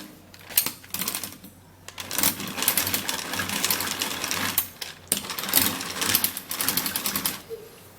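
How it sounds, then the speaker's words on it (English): An electric mixer whirs through face mask ingredients in uneven bursts, a close rattling buzz that starts, stops and restarts several times over a few seconds, with no talking. "this mixer makes life easy"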